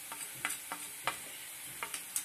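Turmeric and coriander powder frying in a pan, with a soft sizzle under a series of light, sharp scrape-and-clatter stirring hits spaced unevenly, close and fairly quiet.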